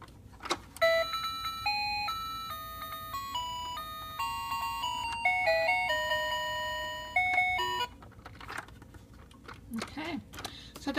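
A toy motorcycle's buttons trigger electronic beeping tones and short chiming melodies for the turn indicator and brakes, playing in quick succession, followed by softer clicks and handling noises.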